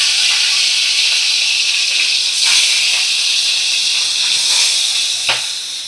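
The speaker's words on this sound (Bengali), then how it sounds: "এইবার আমি নুন হলুদ মাখানো মাছগুলো তেলের মধ্যে দিয়ে দেব।" Mrigal fish pieces coated in salt and turmeric frying in hot oil, a loud continuous sizzle close by with a few brief sharper spits, no talking.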